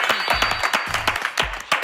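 A short burst of clapping for BTS and their ARMY fans during the BTS Festa 2021 broadcast, close and brisk, with a low voice murmuring beneath it.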